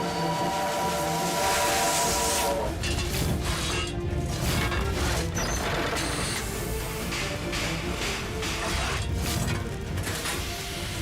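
An imperial steam train travels between Crimea and St. Petersburg in 1888, with loud continuous rumbling and clattering of the rails, hissing steam and sharp bursts, dense and close throughout.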